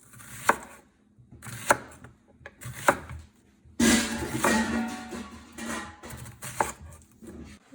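A knife slicing sausage on a cutting board: sharp, separate chops land at an uneven pace, then a denser stretch of cutting and board knocks follows.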